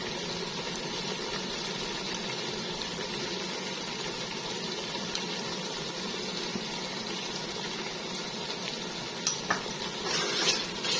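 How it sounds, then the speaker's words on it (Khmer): Curry being stirred in a frying pan for a Khmer New Year meal, giving a steady, close sizzle and scraping rustle that runs unbroken, with a few brighter clinks of the utensil near the end and no talk. "យើងកូរសព្វមក"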